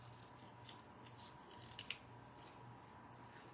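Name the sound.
small travel scissors fussy cutting paper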